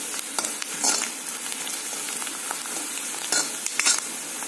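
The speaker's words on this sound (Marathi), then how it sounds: "आता इथे थोडा आपला कांदा फ्राय करायचा आहे" Onion frying in a pan while being stirred, a continuous close sizzle broken by a few scraping clinks of the spoon against the pan, with no talk.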